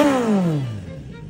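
A Kawasaki Ninja 1000 sports touring motorcycle's engine winds down after a rev, its pitch falling smoothly from a loud close whine to a low idle within about a second.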